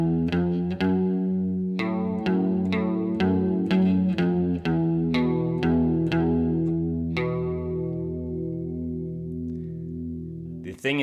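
Distorted electric guitar plays a full riff, repeated chord stabs in a steady driving rhythm with chorus-like shimmer, loud and alone.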